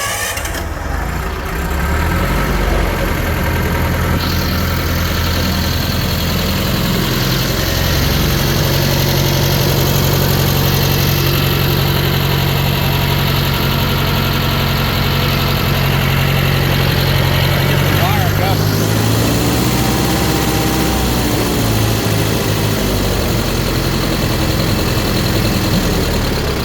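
A Wisconsin air-cooled V440 fuel-injected engine runs loud and close with a steady idling drone and rattle, then its pitch shifts near the end as the running changes.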